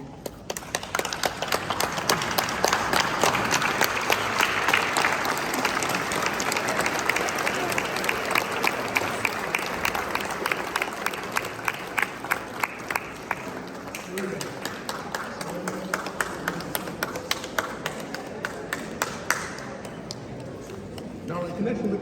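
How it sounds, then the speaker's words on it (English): Funeral congregation in Los Angeles giving a standing ovation, dense sustained clapping from a large crowd filling the room for about twenty seconds, with some voices mixed in. "give him a clap offering, a standing ovation, just to show your gratitude for what this man has done for you and your community."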